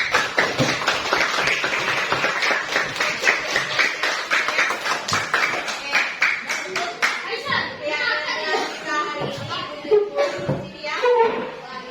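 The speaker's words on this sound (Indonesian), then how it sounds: "Tepuk tangan dulu buat kita semua" A group of schoolchildren in a classroom bursts into steady, dense applause, many hands clapping close and loud for several seconds before it thins out amid chatter and children's voices.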